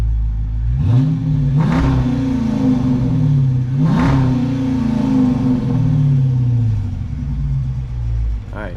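A Dodge Charger engine with an SLP Loudmouth cat-back exhaust revs up repeatedly, rising and falling in pitch over a low rumble, heard from inside the car with the door open, with a few surges heard from nearby.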